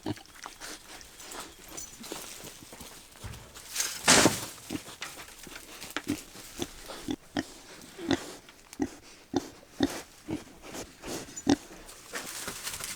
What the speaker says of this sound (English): Please pause for cute pigs.